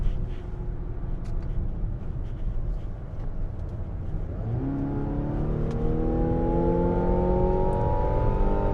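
A Mazda CX-70 plug-in hybrid accelerating in sport mode with an 8-speed transmission: a low engine drone swells halfway through into a rising, climbing rev tone that grows steadily louder, heard from inside the cabin without speech.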